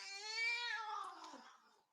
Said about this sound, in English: Ooh, She's just growling.